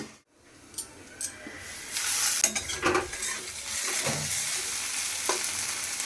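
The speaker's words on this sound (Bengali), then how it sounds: "এবার আলু পেঁয়াজটাকে একটু ভেজে দিয়ে দিচ্ছি" Potatoes and onions frying in a pan: after a brief quiet start, a dense sizzle swells and holds, with occasional scraping stirs over it, up close.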